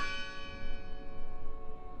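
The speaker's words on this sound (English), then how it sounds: "The bell's still ringing." A church bell rings in the video game Draugen, a single lingering bell tone with a rich, slowly fading chime that sustains against a soft ambient background.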